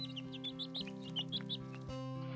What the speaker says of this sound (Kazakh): екі сары балапан